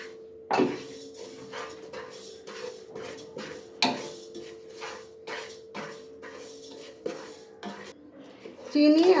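Semolina and sugar, equal parts, stirred in a dry pan with no oil for sujir halwa, a spoon scraping and clinking against the metal in an irregular rhythm under a steady hum.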